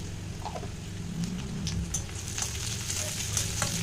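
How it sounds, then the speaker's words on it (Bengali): Chopped onion with black cumin sizzling in a hot pan, a steady crackling fry with light stirring clicks, close and continuous with no talking. "তো দেখো পেঁয়াজটা ভাজা হচ্ছে, এর মধ্যে দেবো একটু কালো জিরে"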